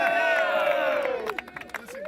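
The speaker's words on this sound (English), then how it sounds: "Oh, some great celebrating going on." Fans celebrating around a podium after a Dodge Viper Cup race at Miller Motorsports Park, a steady crowd roar with scattered shouts and a few claps mixed in, fairly near and lively throughout.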